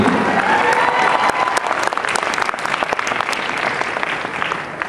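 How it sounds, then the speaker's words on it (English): An audience at an anime convention cosplay competition applauds a cosplay duo, lively and fairly loud clapping with crisp individual claps over a full crowd wash, easing slightly as it goes. "One more round of applause, please"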